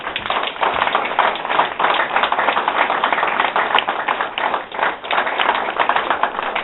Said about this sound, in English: So I'd like to have a round of applause for the wives.